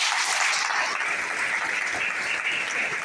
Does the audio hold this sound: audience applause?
yes